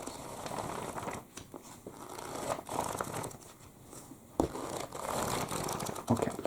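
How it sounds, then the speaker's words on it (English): Quick, crinkly page turns of a Harry Potter book, paper flicking and rustling in rapid succession at close range with brief pauses between bursts. "I'm just going to do quick page turning now first"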